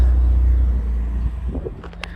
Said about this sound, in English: this guy's M4 is obnoxiously loud